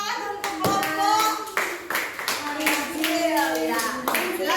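A classroom group of children claps together in applause for a small group, a quick ragged burst of hand claps layered with an adult's voice speaking over it.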